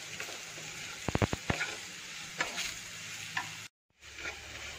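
Spice powders frying in a pan for a beef dish are stirred, with a soft sizzle under quick clicks and scrapes of a spoon against the pan, close and moderately quiet, broken by a brief silent gap.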